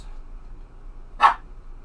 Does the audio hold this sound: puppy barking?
yes